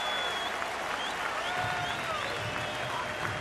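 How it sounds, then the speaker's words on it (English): A sellout baseball crowd stands and cheers in a Milwaukee ballpark, a dense, continuous roar of voices and clapping holding steady throughout with no one speaking over it. "Sellout crowd on their feet."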